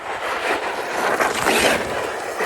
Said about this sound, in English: Really digging this new Hobby Wing motor.